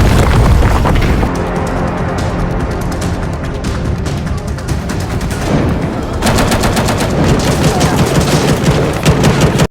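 Dense, continuous gunfire with rapid automatic bursts and heavy booms, loud and sustained throughout, like a chaotic battle.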